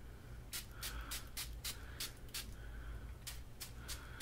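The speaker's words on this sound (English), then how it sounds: "So I'm going to spray this off of camera actually." Short hissing bursts of clear coat solution sprayed onto a MacBook Pro, about a dozen quick pulses in an irregular rhythm, close and fairly faint over a low steady hum.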